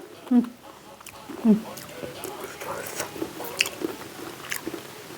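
Close, wet chewing and biting of spicy Isan-style Thai papaya salad pounded with fresh shrimp, with a couple of louder crunchy bites near the start and someone talking softly in Thai throughout.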